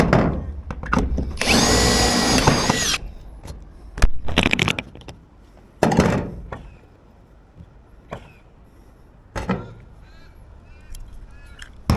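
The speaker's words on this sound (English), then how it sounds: "we've just put rivets through the sheets into the back of this gutter" Rivets are set through metal roof sheets into the back of a gutter, with a few loud, brief mechanical bursts and clunks at irregular intervals and quieter handling noise between them.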